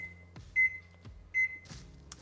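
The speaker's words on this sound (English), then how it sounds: "I will set my oven to 20 minutes" A kitchen oven's timer gives two steady electronic beeps, each about a quarter second long, as it is set for baking egg bites. Each beep is preceded by a soft click or button thud, with quiet handling noise at the end.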